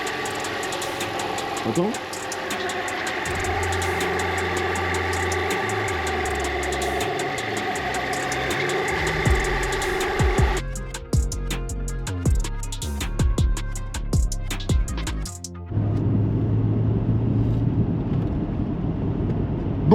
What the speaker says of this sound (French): il y a toujours un bruit côté roulement avant droit